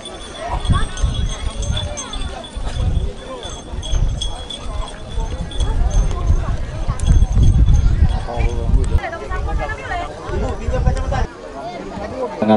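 A pair of racing cattle thunders down a track at a village cattle race in Baliase, rapid hoofbeats under a loud announcer's voice and a noisy, murmuring crowd.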